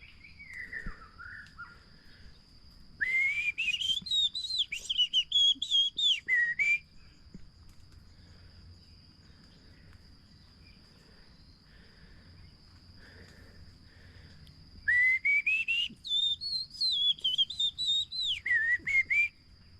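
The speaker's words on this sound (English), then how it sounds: "You hear the bird. That's a white-rumped shama." White-rumped shama singing beside a forest trail in Hawaii, two bursts of loud, clear rising and falling whistled phrases separated by a quiet stretch, over a low steady hum and soft background insects.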